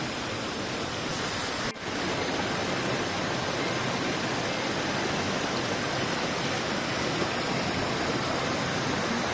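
Steady, full-bodied roar of a waterfall on a mountain river in the Karkonosze near Karpacz, loud and close, continuous and unchanging throughout with no voices over it.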